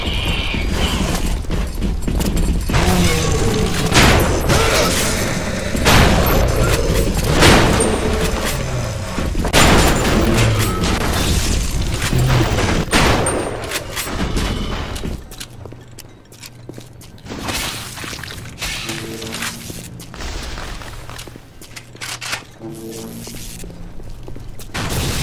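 A turret firing in Bioshock: a long stretch of rapid, mechanical clattering shots, loud and close, then a quieter passage with sparse metallic clicks and thumps.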